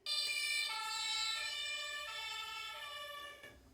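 A battery-powered toy fire truck plays its siren at the press of a button, an electronic wailing tone that rises and falls in steady cycles, bright and close, then cuts off abruptly.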